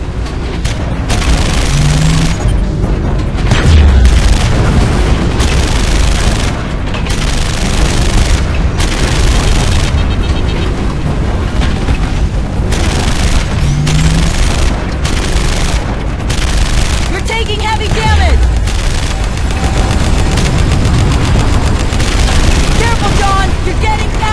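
Constant, loud explosions and bursts of gunfire fill a Terminator Salvation battle as turrets are destroyed, heavy booms rolling one into another with little pause.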